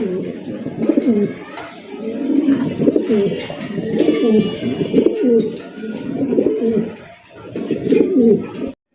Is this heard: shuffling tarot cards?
no